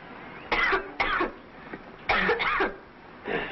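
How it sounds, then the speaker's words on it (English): A man coughs in several harsh, rough bursts, some in quick pairs, with quiet pauses between them; the coughs sound fairly close and stand alone without speech, on an old Western film soundtrack. "it's quite a cough you've got there, son."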